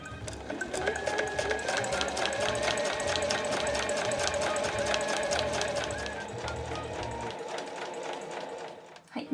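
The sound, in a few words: sewing machine stitching a quilted pouch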